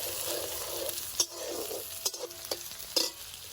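Chopped onion frying in a pan until reddish, a steady soft sizzle broken by a few sharp stirring clinks and scrapes.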